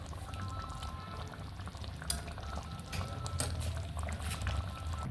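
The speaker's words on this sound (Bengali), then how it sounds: "এবারে পরিমাণ মতো জল দিয়ে নেবো।" Water is poured into a simmering vegetarian potato curry (aloo dum), a steady liquid rush and bubbling over a low hiss of cooking, with scattered clinks and stirring sounds and no talk.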